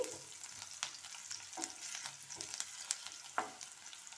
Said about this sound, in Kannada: ಬೆಳ್ಳುಳ್ಳಿ ಚೆನ್ನಾಗಿ ಫ್ರೈ ಆಗಲಿ